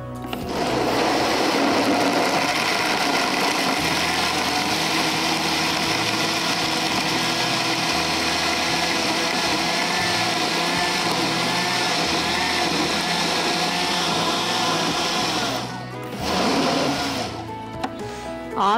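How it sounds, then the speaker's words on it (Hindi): An electric blender runs at full speed on a mango mixture, a loud steady whirring drone lasting many seconds before the motor slows, stops, and briefly restarts near the end. "और इसको हम ब्लेंड कर लेंगे।"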